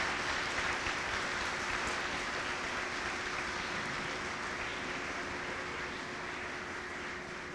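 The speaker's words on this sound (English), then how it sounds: "I would like to take a moment so that you can applaud your families for everything they've done for you" A school promotion ceremony audience applauds their families, a steady broadband wash of clapping held at an even level throughout, a faint continuous hum beneath it, no voices standing out.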